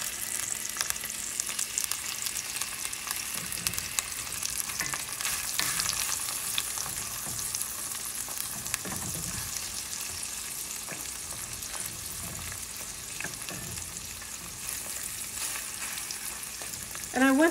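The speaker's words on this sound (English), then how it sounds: "some lemons that I've sliced. And we're going to lay these down. And we want these to start kind of caramelizing." Sliced lemons sizzle and caramelize in a skillet for a lemon chicken orzo dinner, a steady, close, crackling fry that runs throughout with small pops and no voices.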